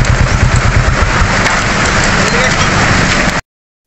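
Heavy rain pours in a loud, continuous roar with a low rumble underneath that may come from a passing vehicle, then cuts to silence near the end.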